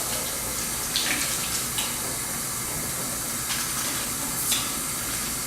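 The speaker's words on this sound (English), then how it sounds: "I'm going to wash our hands real quick." Tap water runs steadily into a kitchen sink during hand washing, a continuous close hiss and splash with a few faint clinks now and then.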